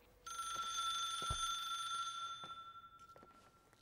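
A phone in the video game The Suicide of Rachel Foster rings with a bright, trilling electronic bell that sustains for about three seconds before fading, accompanied by faint clicks.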